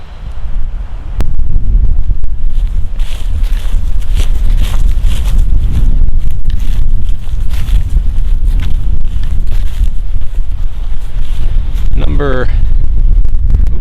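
Strong, steady wind roars across an open pasture, buffeting the microphone continuously at close range and high volume, with a brief voice near the end.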